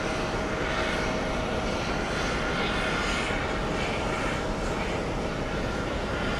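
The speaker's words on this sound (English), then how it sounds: "Oh, is this our Qatar Amiri flight?" A Qatar Amiri Flight aircraft passes at JFK airport with a loud, steady engine roar that holds constant throughout and has no speech over it.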